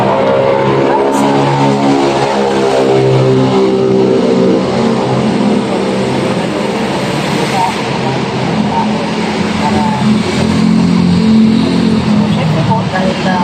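A Mitsubishi Xpander's engine drones loudly and steadily as it accelerates in overdrive, a sustained mid-pitched hum with road noise throughout, while a person talks over it.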